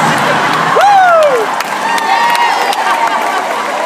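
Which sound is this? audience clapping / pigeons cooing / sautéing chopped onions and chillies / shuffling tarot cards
audience clapping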